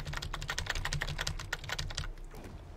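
Computer keyboard keys pressed rapidly during a football video game, a dense run of close, crisp clicks and clacks over a low background hum, easing off toward the end.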